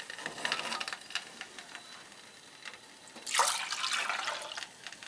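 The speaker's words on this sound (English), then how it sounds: "And add some water." Water poured into a pot holding evaporated milk during a custard ice block recipe. A soft splashing stream runs steadily in the middle, with a louder, fuller pour toward the end.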